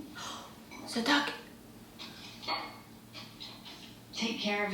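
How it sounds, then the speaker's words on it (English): A dog barks a few times amid people talking, short sharp barks near the start and end that are partly mixed with speech. "The dog."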